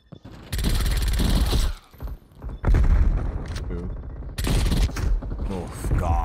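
Close, loud bursts of gunfire in Call of Duty: Black Ops Cold War, hip-fired in quick volleys, mixed with mechanical weapon clatter and brief gaps between shots.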